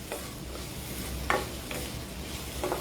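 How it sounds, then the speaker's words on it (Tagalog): Onion and garlic sautéing in a pan for ginisang kangkong, a steady low sizzle with a few soft stirring scrapes, close by with no talk. "So ilagay na rin po natin yung ating sibuyas at bawang para magisa na rin sila"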